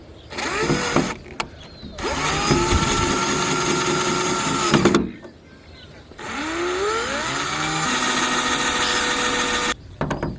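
A power drill drives long screws into a van's board in two long whining runs, with pitch climbing as each screw seats, separated by short pauses and brief clicks, close and loud.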